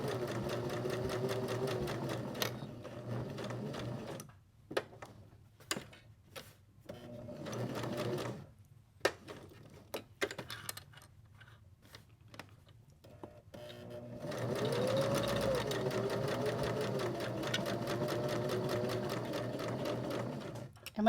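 A sewing machine stitches fabric for a bunny-shaped ice pack in steady, close whirring runs, broken by several pauses and short bursts while the fabric is repositioned.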